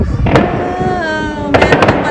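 New Year's Eve fireworks pop and crackle in Canada, a burst early on and a rapid cluster of bangs near the end, heard over a sustained tonal background and nearby voices.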